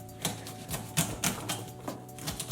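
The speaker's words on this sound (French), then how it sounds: "on va les couper" Knife cuts vegetables into small pieces on a cutting board: a steady series of crisp chopping taps, close and moderately loud, about four per second.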